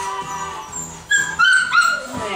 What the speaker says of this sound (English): Okay, he's a nice little puppy.